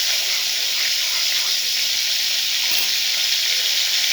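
Bits of fried onion drop into hot reused frying oil, giving a steady, loud, bright sizzle that holds evenly throughout with no talking.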